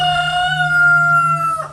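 A rooster or chicken crows on a farm kept with cows, pigs, ducks and turkeys, one long, steady, close crow that breaks off near the end.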